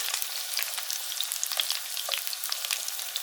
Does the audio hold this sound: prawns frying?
yes